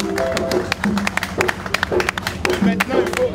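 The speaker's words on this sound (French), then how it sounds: "Bien, on peut applaudir s'il vous plaît." An audience at an event applauds: scattered, irregular hand claps of moderate loudness, mixed with voices and chatter throughout.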